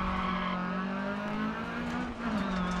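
Peugeot 208 T16 rally car in the DiRT Rally racing game, its engine holding a loud steady drone with a brief lift near the end and faint tyre noise beneath, heard from the cockpit view with no talk.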